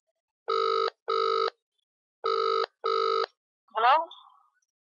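A telephone rings in two pairs of electronic bursts, loud and clean against silence, followed by a short voice.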